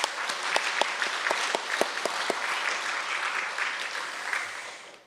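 A church congregation applauds its volunteers with a dense, steady burst of clapping from a full room, a few sharper claps standing out near the start before it tapers off at the end.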